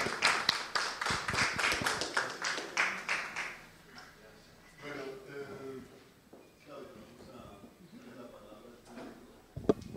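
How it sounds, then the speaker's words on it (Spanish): At a small forum on justice reform, a modest audience gives a few seconds of close, rhythmic clapping. It stops abruptly and gives way to quieter talking voices, and one last sharp tap is heard at the end. "darle un aplauso a Ángela María Rubio."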